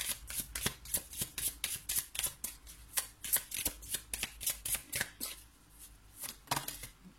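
Oracle cards are shuffled by hand in a quick, continuous riffling rhythm of crisp papery slaps, close and fairly quiet, with no talking.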